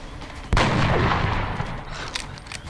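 A single loud gunshot in XCOM: Enemy Within, an abrupt close blast followed by a long rumbling decay over the game's ambient background, with a faint later clatter.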